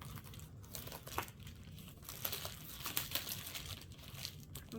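Very small scissors cutting through paper packing around a mail-order houseplant, producing steady close crinkling and tearing rustles with a few sharper snips.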